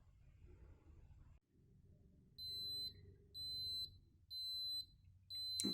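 A digital touch-screen sublimation mug press timer beeps four times in a steady rhythm, with evenly spaced, loud high-pitched tones over a low background hum and faint handling noise.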